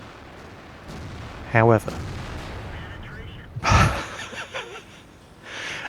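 A T30 tank destroyer's big gun fires in World of Tanks with one loud, booming shot and rumbling echo, preceded by a brief mechanical whine; someone speaks briefly around it.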